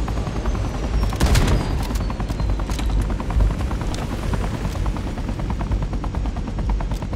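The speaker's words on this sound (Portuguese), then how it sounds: "O helicóptero chegou. Evacue agora mesmo." A helicopter arrives in a zombies video game, its steady rotor thump running throughout under rapid bursts of machine-gun fire and scattered gunshots, loud and close.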